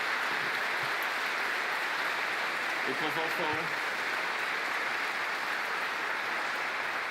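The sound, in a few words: audience applause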